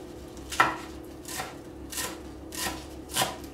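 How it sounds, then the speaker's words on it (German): A knife chops garlic leaves and mint on a cutting board in five separate, crisp strikes spaced about half a second apart, close by, with no talking. "Und das schneide ich alles klein und gebe in meinen Quark."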